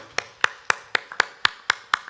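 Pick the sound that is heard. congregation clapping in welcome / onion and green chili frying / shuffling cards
congregation clapping in welcome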